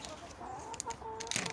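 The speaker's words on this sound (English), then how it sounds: "Oh no, the chicken's gone up on the seat now." Chickens on an outdoor vegetable plot give a few faint, scattered clucks under steady open-air background noise.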